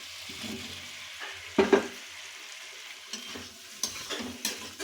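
Boiled potatoes and pointed gourd are stirred into frying spices in a pan, a steady low sizzle broken by a few louder scraping stirs, close up and with no voices.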